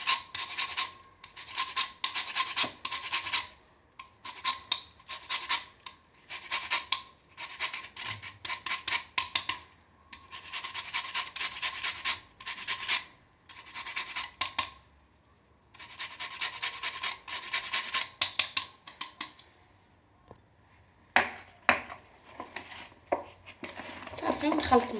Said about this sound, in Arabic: دابا غادي ندير قشره ديال الحامضه، نحاول ما نوصلش لهاديك الطبقه اللي تكون بيضاء